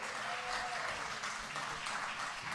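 An audience at a blues concert in an auditorium applauds, a dense steady wash of clapping that fills the whole moment without pause.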